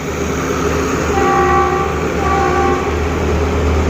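Train number 37 hauled by a locomotive at Pak Tho railway station in Ratchaburi, heard as a loud, steady rumble of rolling rail cars with a sustained horn-like tone, continuous throughout with no talking.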